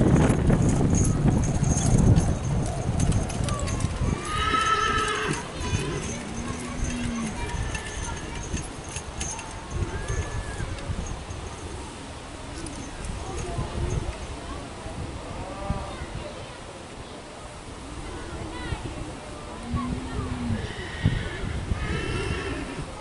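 Horses whinny and neigh repeatedly at a moderate distance, with hoof clopping and a murmuring crowd in the background.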